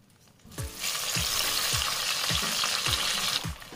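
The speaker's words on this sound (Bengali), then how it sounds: "এবারে যে তেলে চিকেনগুলো ভেজেছি সেই তেলেই আলুগুলো ভেজে নেব।" Potatoes coated with salt and turmeric fry in oil left from frying chicken. A steady, bright sizzle runs throughout, broken by a regular series of soft low thumps as the pieces are turned.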